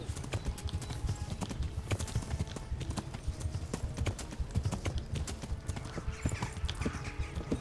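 Horse hooves gallop in the video game Kingdom Come: Deliverance, a steady, fast clip-clop rhythm of repeated hoof strikes close up, with a brief whinny and no talk over it.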